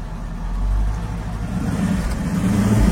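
A Mercedes V8 from a W116 450 SEL 6.9 or W140 S500L 5.0 rumbles nearby, a deep, loud, steady idle with slight swells, no talking over it.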